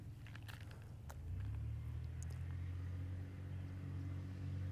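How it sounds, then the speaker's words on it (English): Traffic rumbles faintly beside a lakeside bass boat tour, a low, steady road drone with a passing vehicle swelling slightly louder partway through, and no voices. "I do apologize for any traffic noise."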